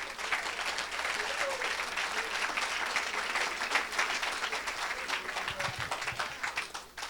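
A crowd at a church mission event applauds and cheers continuously, a dense roar of clapping that holds steady before tapering off at the end.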